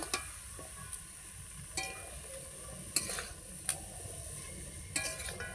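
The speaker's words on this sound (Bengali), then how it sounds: "এরপর বাঁধাকপিগুলো দিয়ে দেবো দিয়ে আস্তে আস্তে নাড়তে থাকবো" Cabbage being stirred in oil in a pan on a clay stove: a continuous close sizzle broken by several sharp clinks and scrapes of the stirring utensil at irregular intervals.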